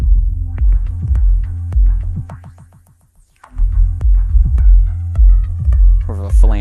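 Beats played on a Reloop Beatpad 2 DJ controller with touch effects such as flanger, phaser and bit crush, a pulsing rhythmic loop that briefly drops out before resuming with warbling, sweeping textures.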